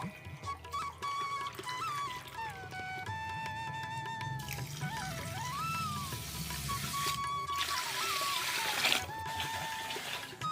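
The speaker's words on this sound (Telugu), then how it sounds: "3 గ్లాసులు వాటర్ వేసుకుంటాను" Water trickles and splashes as it is poured into a pot of rice being prepared for lemon rice, a faint, fairly steady stream over several seconds with kitchen clatter and tonal noises in the background.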